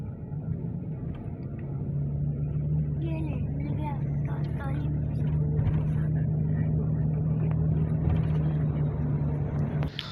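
Car engine idling and rumbling as the vehicle pulls in and parks during a pilgrimage tour in Makkah, a steady low drone running under continuous talk.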